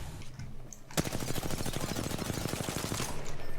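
Rapid automatic gunfire in the battle royale shooter Apex Legends, starting with a sharp shot near one second and then a sustained stream of evenly spaced, loud bursts that runs to the end.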